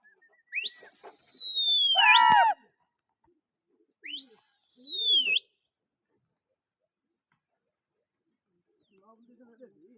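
Pigeons flying in a pigeon-flying competition, heard as two clear whistling, sliding calls a couple of seconds apart, the first longer and richer, followed by near silence and faint murmuring voices at the end.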